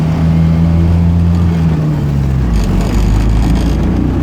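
A Heinkel Kabine microcar engine pulls hard under acceleration, a loud steady drone whose pitch slides downward as it shifts gear, then settles into a rougher, grittier hum.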